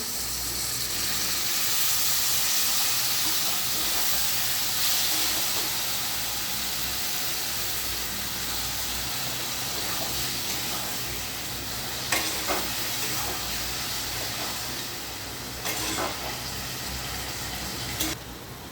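Spiced potatoes for Punjabi-style aloo dum sizzle and hiss in a pan just after a little water is added, a steady steamy frying sound with a few brief stirring clinks near the end.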